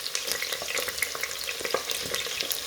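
Aubergine sizzles and fries steadily in a hot pan alongside carrots, a dense continuous crackle with small pops close by.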